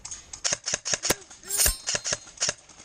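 A suppressed airsoft gun fires a quick run of about a dozen soft, snappy pops in an uneven rhythm during an outdoor airsoft game, with brief voices mixed in.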